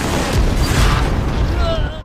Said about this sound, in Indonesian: musuh terus menyerang dan berhasil melumpuhkan senjata mesin dengan tembakan RPG